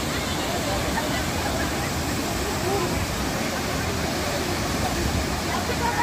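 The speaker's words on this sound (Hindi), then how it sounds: "आप देख रहे हो कैसा चल रहा है ये वाटरफॉल में, ये कहाँ कहाँ चढ़ी हुई है, क्या पानी बह रहा है।" A waterfall near Igatpuri on the way to Mumbai, heard as a steady, loud, broadband roar of rushing water that fills the whole stretch without pause.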